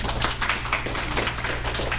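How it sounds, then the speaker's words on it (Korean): Church congregation applauding in thanks after a lesson, a brief patter of light, uneven hand claps over a steady background hum. "박수로 감사를 표현했습니다"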